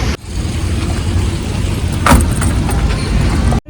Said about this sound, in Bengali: চলে গেলাম ক্যাবে